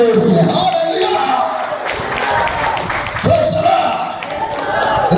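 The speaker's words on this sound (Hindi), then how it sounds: "ताली बजाओ ना जोर से।" A church congregation claps and cheers loudly in sustained bursts, a crowd roar swelling twice, during a Hindi-language Bible sermon, with a preacher's voice shouting over it.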